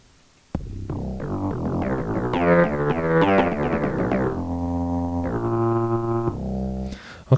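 A plucky bass synth built from a tea kettle sample plays a quick run of short, bouncy notes, then settles into steadier held tones before cutting off; loud and close, with no voices.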